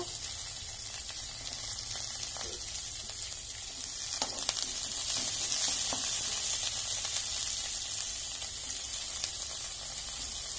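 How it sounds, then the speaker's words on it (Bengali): Pointed gourd frying in a pan makes a steady, fairly soft sizzle that swells a little midway, with occasional light clicks from stirring and no voices. "আগে পটলটা একটু ভাজা ভাজা করে নেব।"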